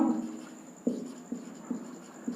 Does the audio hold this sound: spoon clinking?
no